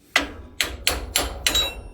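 A hammer strikes the spring eye bush of an Ifor Williams trailer, five sharp metallic blows at a steady pace, each ringing briefly before the next, close and loud with no talking.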